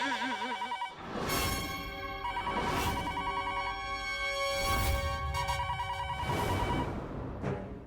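A telephone in a home rings repeatedly, with loud, regular electronic bursts that go on for several seconds and no talking over them.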